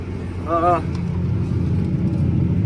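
A tractor's low, heavy engine rumbles steadily throughout while deep-ripping soil, straining through heavy clods on sprayer tracks, with a brief wavering tonal whine near the start.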